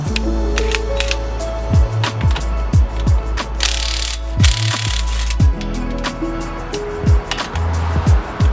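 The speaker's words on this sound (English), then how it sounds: "We have to take off the lug nuts right here. And this is a 19mm socket." An impact wrench or ratchet rattles repeatedly as a 19mm socket loosens lug nuts on a Honda Civic wheel, with clicking and whirring bursts, clanks and a short pause of handling noise.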